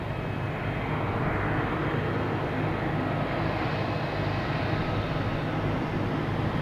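A JetBlue airliner at Boston Logan Airport makes a continuous, moderately distant engine rumble and hiss, even in level and unbroken, with no one speaking.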